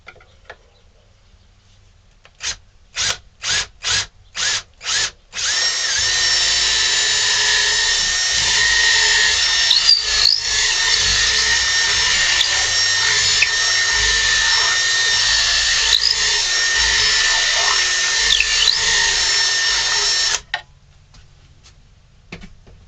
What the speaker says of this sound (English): I got a 1/4 inch drill bit, and we're going to drill a hole